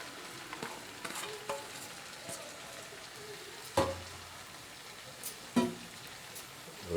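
Chopped bottle gourd goes into a hot pan for a vegetarian lau ghonto with moong dal and is stirred, giving a low sizzle broken by a few sharp scraping clatters of the spoon, with no talking.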